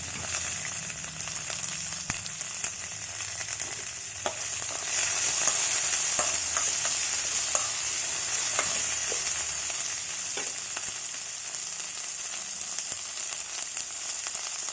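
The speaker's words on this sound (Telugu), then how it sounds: "ఇవన్నీ బాగా ఫ్రై చేయాలి" Curry leaves and drumstick leaves with a little ginger fry in a pan, giving a steady close sizzle throughout with occasional light stirring scrapes.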